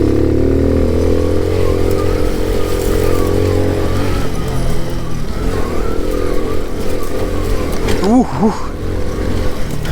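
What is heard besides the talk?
moped riding uphill on motocross track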